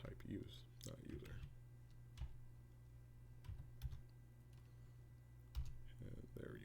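Someone types a command on a computer keyboard, making scattered, quiet key clicks in short bursts with pauses in between, while a person talks over a faint steady hum.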